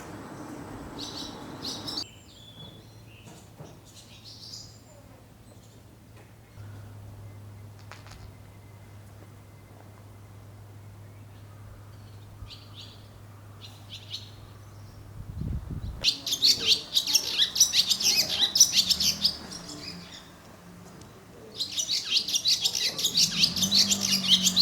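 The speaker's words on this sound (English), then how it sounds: "Oh, the birds are so beautiful here in Japan." Small birds chirp and trill in a Japanese village at dawn, sparse calls at first, then dense bursts of bright twittering nearby in the later part, with a low steady hum beneath.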